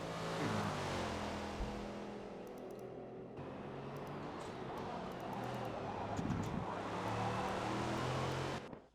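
GT3 race cars accelerate out of the Hockenheim hairpin in a racing video game, a loud, steady layered engine drone with sustained tonal whine and a wind-like rush running throughout.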